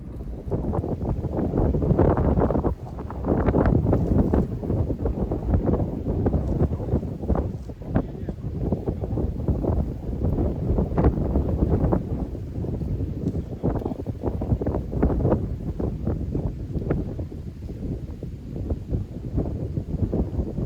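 Strong, gusty wind blows across a lake during a carp fishing session, a loud, rough rumble that buffets the microphone in uneven surges throughout.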